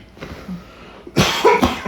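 A few sharp, loud coughs in quick succession, close to the microphone, following a quieter stretch of faint throat noise.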